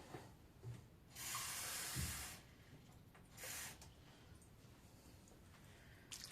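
Cold tap water gushes in a short burst, stops, then runs again briefly, a bright hissing stream in a quiet kitchen while making crepe batter.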